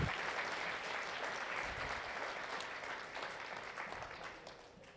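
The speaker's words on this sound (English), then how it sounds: "let's just give a quick round of applause to everyone who helped with the wedding" Wedding reception guests applauding: a room of many hands clapping steadily at some distance, fairly soft, gradually tapering as it goes on.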